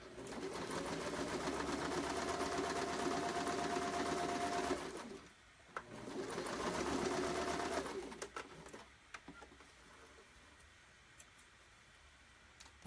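A sewing machine runs top stitching along the edge of a wallet in two steady bursts of fast mechanical whirring, close up, followed by quieter handling sounds and faint clicks.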